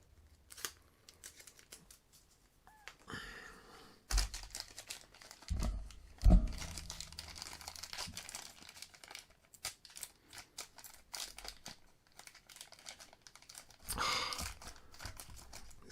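Dull scissors snipping and crunching through plastic packaging, irregular cuts mixed with crinkling and rustling, close and fairly quiet with no talk.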